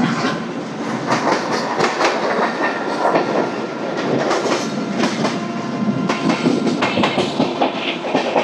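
The Samata Super Fast Express, train 12807 from Visakhapatnam, runs on the rails after leaving Vizianagaram, heard from on board as a loud, continuous rumble with rhythmic clickety-clack of the wheels and no one talking.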